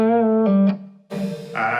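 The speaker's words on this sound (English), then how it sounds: "This is kind of the guitar noise I'm getting through the line 6." Distorted electric guitar played through a Line 6 amp with a POG effect, sustained harmonic-rich notes and a short chord burst, loud and close with no talking.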